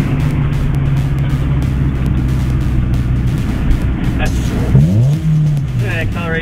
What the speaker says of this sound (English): Look at that acceleration. So fast.